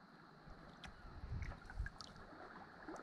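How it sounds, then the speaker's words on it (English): Faint flowing water gurgles and laps softly outdoors, with wind noise buffeting the microphone and a few slightly stronger splashes in the middle, no voices. "Listen to the water."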